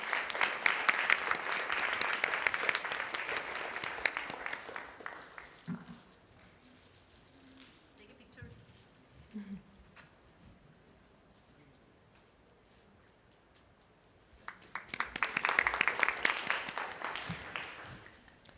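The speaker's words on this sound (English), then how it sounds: "Let us give a big round of applause." An audience at a felicitation and dinner event applauds in a dense, loud burst of clapping that fades after about five seconds, followed by quieter murmuring and scattered sounds, then a second strong round of applause near the end.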